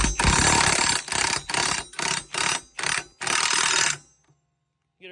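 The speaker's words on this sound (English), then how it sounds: "you can take your 36mm socket or a wrench and tighten that up a little bit" A 36mm socket wrench ratcheting as a bolt is tightened on an IronCraft FRF flail mower being assembled: six loud, close bursts of rapid clicking in a steady rhythm, then silence and a faint final tick.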